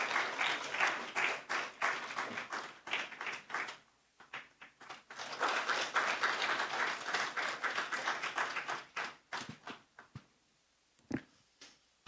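A church congregation at a revival meeting applauds to welcome the pastor: dense, sustained clapping for about nine seconds that thins to a few scattered claps and small knocks before fading into quiet.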